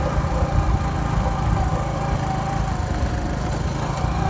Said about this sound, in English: This is me on a bike riding out of my village heading to my hometown